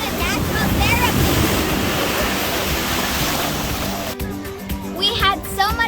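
Ocean surf breaks steadily along the sand at Bethany Beach, a loud continuous wash with wind buffeting the microphone, easing near the end as distant voices and someone speak faintly over the waves.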